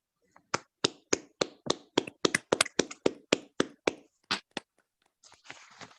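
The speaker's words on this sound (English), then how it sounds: "And now let's have a wonderful applause for these wonderful women." About fifteen sharp hand claps sound close and fairly quiet in an irregular sequence, followed by a brief soft rustle; the sparse claps are more like a single person than a full audience applauding award winners.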